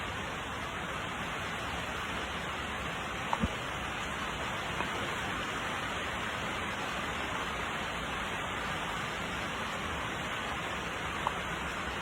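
Water drips and rain falls in a steady, even wash of noise close by, with a few faint isolated drip ticks scattered through it.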